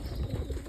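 A pigeon from a group of domestic pigeons kept in a loft gives a brief, low, soft coo close by, with no talk, over a murmuring background.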